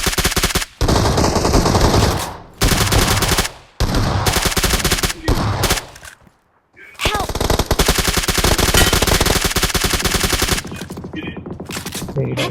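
Machine gun fire in the video game PUBG: loud sustained automatic bursts with short gaps between volleys, players faintly talking underneath.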